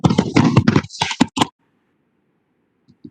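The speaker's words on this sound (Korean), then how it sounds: "키보드" Clicking keystrokes on a computer keyboard, dense and close for about a second and a half, then silence with a few faint taps near the end.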